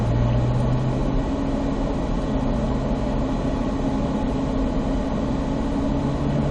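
A car on a cone-marked track accelerates in third gear, a steady, close engine drone with a low hum whose pitch shifts slightly early on, heard alone without talk.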